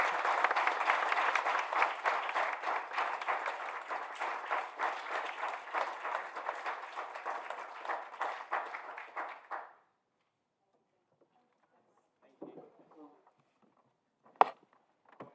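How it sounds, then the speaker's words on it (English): Audience at a Wokingham Borough Council meeting giving a round of applause, dense clapping from a room of people that fades out after about ten seconds, followed by quiet with a few scattered knocks and movements. "let's give them a quick round of applause."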